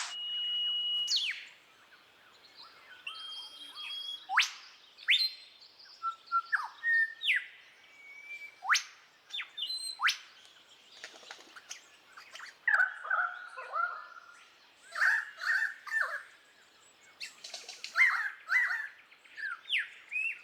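A lyrebird strings together mimicked songs of other birds: varied whistles, sharp chirps, squawks and rapid trills follow one another in irregular bursts, fairly close and clear, with no talking.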